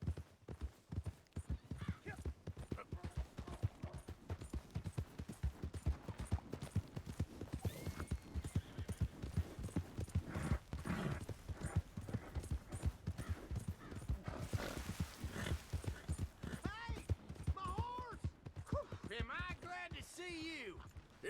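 Horse hooves clip-clopping in the video game Red Dead Redemption 2, a steady rapid trot of close hoofbeats throughout, with occasional neighs and snorts near the end.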